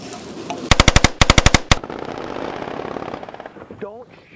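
Video-game machine gun fire rips out in three tight, loud bursts of rapid shots, followed by a lower mechanical rumble and a brief voice at the end.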